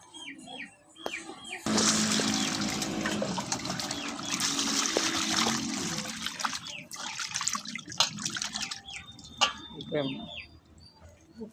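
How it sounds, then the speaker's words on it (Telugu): Fish being washed with salt under running water: a steady rush and splash of tap water through most of the clip, with brief handling sounds and quieter stretches near the start and end. "వీటిని శుభ్రంగా ఉప్పేసి కడుక్కోవాలి"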